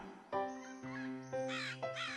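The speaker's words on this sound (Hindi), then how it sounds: "कुछ घंटों बाद कौवा अपने घोंसले के पास लौटा।" A crow caws in a cartoon, four loud, harsh caws in quick succession, close and clear with no talk over them.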